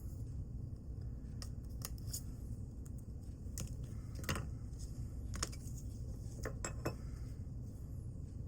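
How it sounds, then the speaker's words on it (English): Scissors snipping paper craft leaves for a postcard, a series of short, crisp cuts spaced irregularly over a quiet room background. "Let's go ahead and just cut that down a little."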